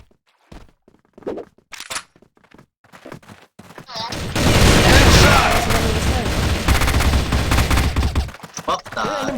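Dense bursts of automatic gunfire in the online shooter Crossfire during a tournament match ring out loud and continuous for about four seconds, preceded by scattered lighter in-game clicks and footsteps.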